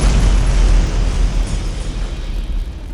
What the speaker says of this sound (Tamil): அடுத்த நொடி ஒரு மாபெரும் வெடிப்பு